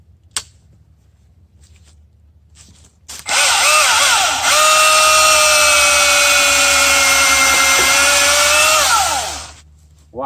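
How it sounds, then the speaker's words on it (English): After a quiet start, a Milwaukee electric chainsaw whirs loudly for about six seconds as it cuts through wood, then winds down and stops. "that's how this thing goes."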